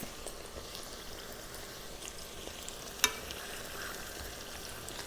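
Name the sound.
bacalaitos codfish fritters frying, turned with forks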